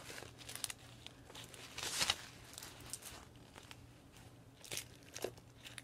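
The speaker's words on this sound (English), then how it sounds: "So now opening the other bag." Soft crinkling and rustling of plastic packaging as a bag package is opened, close and fairly quiet, with a louder tearing crinkle midway and scattered handling noises.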